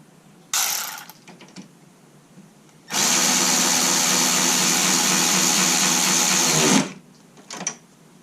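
A 13mm power drive tool runs a manifold bolt in on a Cadillac Northstar during AC condenser work, first as a short whir and then as a loud, sustained mechanical buzz of about four seconds, followed by a brief final burst.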